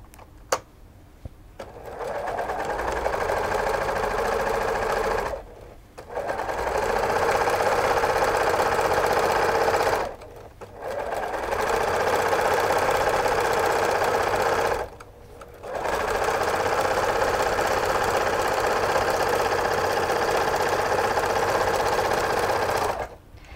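A sewing machine stitches the side and bottom seams of a fabric pillowcase, running in four long steady whirring runs separated by brief pauses. The sound is close and even, with no talking.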